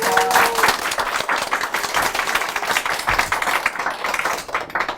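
Steady, dense applause from an audience, many hands clapping together for several seconds without pause.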